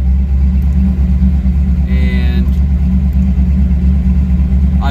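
A car engine on a MegaSquirt-tuned setup idles at about 1100 RPM, giving a steady close mechanical rumble with a brief higher-pitched tone partway through.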